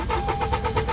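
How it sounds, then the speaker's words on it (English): A car engine being started, its starter cranking in a fast, even train of pulses, roughly seven in one second, loud and close with no voices. "it took a while for my car to start up"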